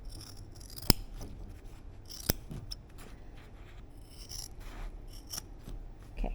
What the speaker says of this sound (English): we're going to come here and gonna trim out this corner